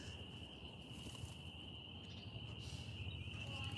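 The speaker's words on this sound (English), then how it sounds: "It says spring peepers, but that would be like millions of them." Spring peeper frogs calling at night at an animal sanctuary form a dense, continuous high-pitched chorus that holds steady and loud throughout, with no talking.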